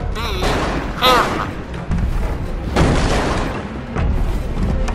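Gunfire in the Bioshock video game, with several loud booming shots and bursts spread across a few seconds, followed by lingering rumble and echo.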